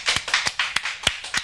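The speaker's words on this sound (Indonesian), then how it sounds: "Sekali lagi tepuk tangan teman-teman buat propolis kita" A few people clap for a propolis product at a health talk, about seven quick, close claps in an uneven rhythm, brief and unaccompanied by speech.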